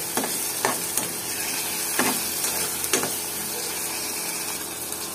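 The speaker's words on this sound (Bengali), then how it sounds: "দিয়ে এবার মশলাটা খুব ভালোভাবে কষায় নেব। এরপরে দিয়ে দেব এই যে মাংসগুলো।" Beef pieces fry in a pan with a cinnamon spice mix for a cabbage, beef and pea dish, a continuous sizzle broken by several sharp scrapes and knocks of a stirring utensil.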